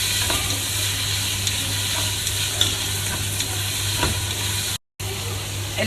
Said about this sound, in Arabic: الحين راح احط عليه المشروم والبصل الاخضر والبازاليا. وراح احط عدل.